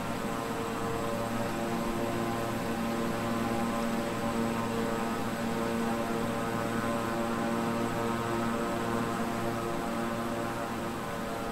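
A King Air 350i twin-engine propeller plane in Microsoft Flight Simulator drones steadily for the whole stretch, a constant engine hum with tonal propeller harmonics and no talk.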